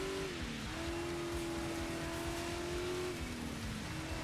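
A dirt racing truck slides its back end around near a barrier in front of a crowd. A steady, loud engine drone shifts pitch over a rough, gritty wash of loose-surface noise.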